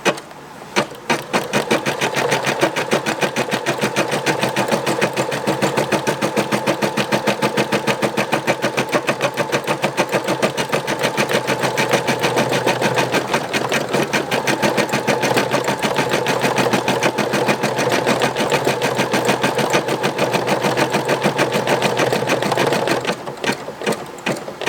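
A Brother SE625 embroidery machine stitches out a Polo Ralph Lauren logo, its needle hammering in a fast, steady mechanical rhythm that runs loud and unbroken for about 22 seconds before stopping, with no talking.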